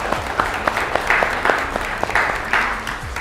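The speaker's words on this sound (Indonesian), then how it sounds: "Bagus, kita beri aplaus." Classroom applause from a group of students, a short burst of scattered clapping with irregular claps spread over a few seconds, moderately close and not very loud.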